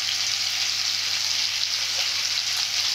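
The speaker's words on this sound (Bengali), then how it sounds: "ভালো করে এইভাবে কষে নেব।" Vegetables sauté with turmeric and chili powder in a pan, giving an even, close, unbroken sizzling hiss throughout with no talking.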